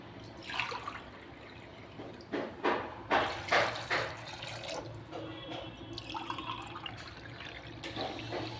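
Water poured from a glass into a pot of rice being cooked with fenugreek, several gurgling splashes in quick succession, close and moderately loud, no talking.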